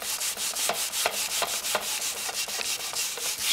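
Repeated rhythmic scrubbing strokes as Scour Off cleaner lifts shoe scuff marks from a surface, a steady back-and-forth rasp, close and fairly loud, with no talking.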